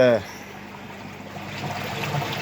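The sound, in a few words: water draining from koi pond filters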